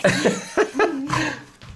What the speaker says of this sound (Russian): Чё кашляешь?